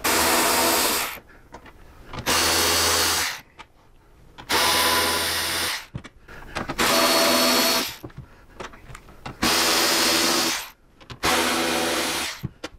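A power tool backs out screws on a Harley Street Bob motorcycle fairing during install, whirring in loud repeated bursts of about a second each with short quiet gaps between them.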